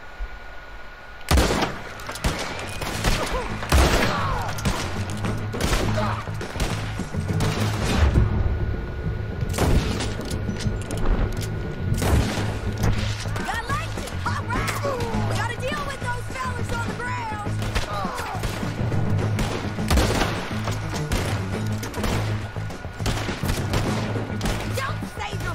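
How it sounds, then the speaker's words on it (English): Repeated gunshots crack through a Red Dead Redemption 2 shootout, bursts of loud fire over a steady low game soundscape, with a voice talking over parts of it. "So they start shooting now?"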